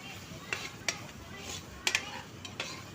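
Chicken being stirred in a pan with ginger paste, giving soft scraping and sizzling with a few sharp utensil knocks against the pan, close and quiet.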